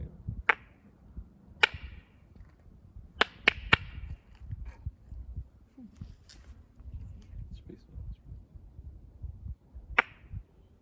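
Sharp hand claps on a dark road, a few crisp claps spread out in an uneven rhythm, some in a quick cluster, with quiet speech and shuffling between them.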